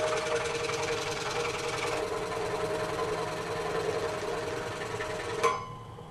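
Scroll saw cutting a wooden Bible table craft piece: a steady, fast mechanical buzz and rattle running continuously at close range, ending with a sharp knock near the end.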